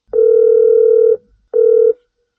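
A Korean telephone ringback tone sounds while a call is placed, one long steady beep followed by a shorter one after a brief pause, loud and clear with no other sound.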